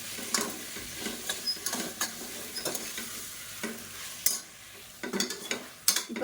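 Mutton chest bone pieces sautéing in a pan, with repeated spatula scrapes and stirs over a lively sizzle. The strokes come in uneven bursts, close and clear, with no voices.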